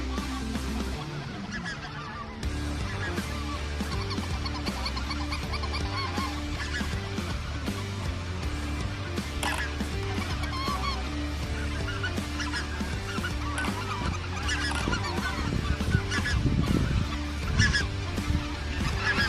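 A large flock of speckled-belly geese honks continuously during a hunting season in northeast Arkansas, many overlapping calls near and far forming a loud, busy chorus.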